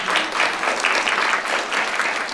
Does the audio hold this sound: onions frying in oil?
no